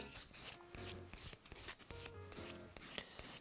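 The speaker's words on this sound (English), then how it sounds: "I am going to try and file it off just to show you how you would remove every last bit of the gel" A nail file rasps back and forth across hard gel nail polish in quick, uneven strokes with short pauses, close and fairly quiet.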